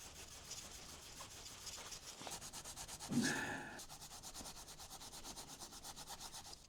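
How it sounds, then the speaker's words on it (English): A Scotch-Brite pad scrubs old gasket material off engine mating surfaces during a Porsche 996 service. The rubbing runs quiet and steady throughout, with one slightly louder stroke in the middle. "So it's got a piece of Scotch-Brite just to go over and get rid of the old gasket."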